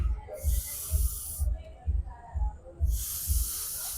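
A blow pen spraying sketch-pen ink as someone blows through it, two bursts of loud airy hissing spray separated by a pause, over rhythmic breathy puffs.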